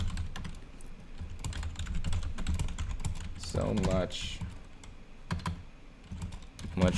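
Keyboard typing on a computer rattles as a steady run of quick clicks close by, running for several seconds with a brief voice passing over it partway through.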